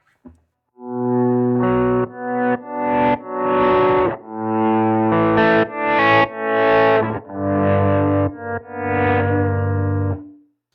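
An electric guitar plays a run of separate notes through an EHX Pico Attack Decay pedal, each note chopped off when the next starts, in short loud bursts with brief gaps.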